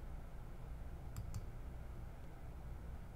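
Two quick, crisp mouse clicks land close together over a soft steady hiss of room noise.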